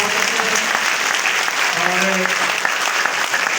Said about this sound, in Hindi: उसके लिए ताली एक बार जोरदार